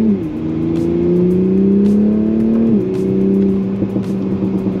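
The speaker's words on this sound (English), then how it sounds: "oh, that exhaust." A 2020 Toyota Supra's exhaust revs loudly and steadily, its deep engine tone rising and dropping as the throttle shifts, close and continuous.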